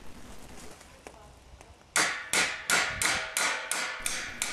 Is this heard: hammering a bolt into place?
yes